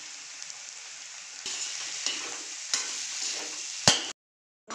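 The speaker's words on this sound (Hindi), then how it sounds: "एक चम्मच धनिया फ्राई करना है।" Coriander fries in oil for bread pakora, giving a soft steady sizzle broken by several stirring clicks and scrapes, then it cuts to silence near the end.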